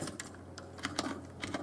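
Quiet clicking of a computer keyboard, a handful of irregular keystrokes with small pauses between them, close and fairly faint.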